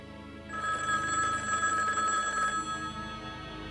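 A telephone bell rings once inside a house, loud and near, with a bright trilling ring of about two seconds that then stops.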